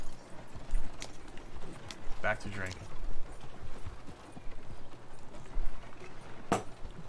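Video game horse hooves clip-clopping in a rhythmic run with a few mechanical clicks, heard beneath someone talking.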